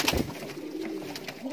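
A brief, low pigeon coo heard close by, a throaty murmur over faint background rustle.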